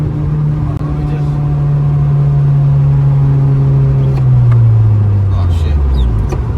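An 8th gen Honda Civic Si engine hums at a steady held throttle, a loud continuous drone that sags slightly in pitch toward the end, with people talking over it.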